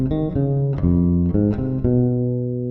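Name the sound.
electric bass playing a passage with superimposed rhythm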